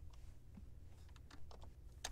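Quick, soft keystrokes on a computer keyboard, a short irregular run of light clicks heard close up over a quiet background hum.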